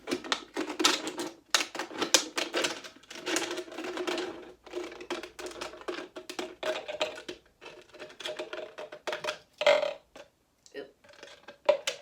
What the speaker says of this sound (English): Cut all the way around your bottle.